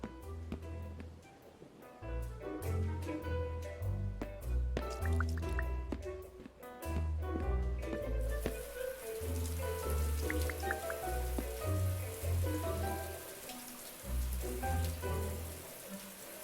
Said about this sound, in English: Sam tries to take a shower.